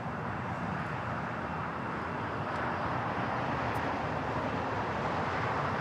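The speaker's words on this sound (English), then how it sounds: "This is the My Austrian 777-200ER coming in from Vienna." An Austrian Airlines Boeing 777-200ER coming in from Vienna to land at LAX, a broad steady jet roar that stays constant and fairly loud throughout with no talking.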